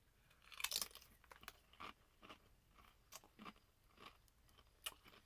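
Sweet and tangy BBQ Doritos chips being crunched and chewed close to the mic, with a loud first bite followed by a steady run of sharp, brittle crunches and no talking.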